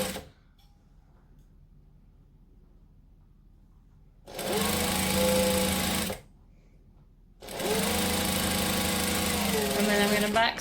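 Sewing machine back stitching a table runner, two loud close bursts of whirring motor and needle separated by a quiet pause, with faint handling noise before the first run.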